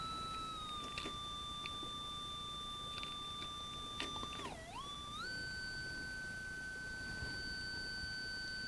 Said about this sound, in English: Now I'm going to switch from sine wave to triangle wave